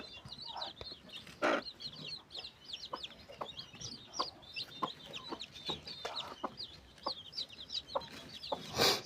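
Chickens on a desi-breed farm cluck repeatedly in an irregular, chattering rhythm, several birds close by with sharp clucks and short calls, with no talk over them.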